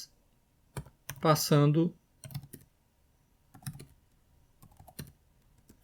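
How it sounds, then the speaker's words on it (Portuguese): Computer keyboard typing as a terminal command is entered while setting up a ChromeOS Flex virtual machine in QEMU: scattered bursts of crisp key clicks around a short stretch of talking. "Então agora eu vou digitar o comando chmod-x"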